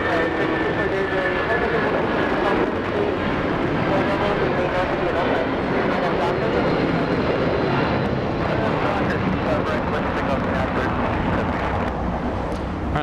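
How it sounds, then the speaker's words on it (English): A small Embraer E175 regional jet taxiing on a taxiway at Los Angeles International Airport, a loud continuous engine roar and rumble filling the scene, steady throughout with voices talking over it. "We have the little E175 taxiing on Bravo right now."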